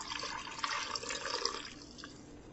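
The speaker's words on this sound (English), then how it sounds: "I put some water in with what, the rest of the spices I had. And I'm just going to pour that in there." Water mixed with butter and spices pours over venison in a pan, a steady close splashing trickle with soft drips, running alone without talk.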